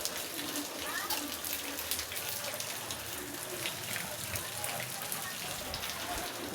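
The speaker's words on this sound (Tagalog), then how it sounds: "Ulan-ulan na naman." Steady rain hisses and patters across a broad wash of noise, with faint voices murmuring underneath.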